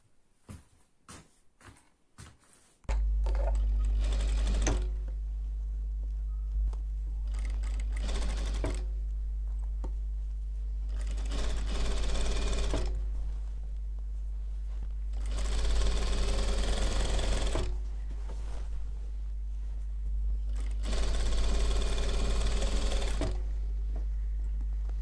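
A sewing machine stitches fabric and mesh together for a white headscarf, starting with a few clicks and then a constant motor hum with several louder bursts of fast stitching and pauses between them.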